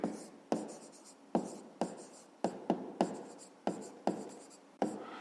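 A pen scratches across paper during a handwritten maths exercise, with quick irregular strokes in close, crisp bursts and short pauses between them, and no talk over it.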